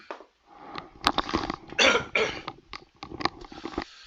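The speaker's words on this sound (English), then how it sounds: "Sorry for clearing my throat." A person clears their throat and coughs several times in a quiet room, a string of close, harsh bursts with brief pauses between them.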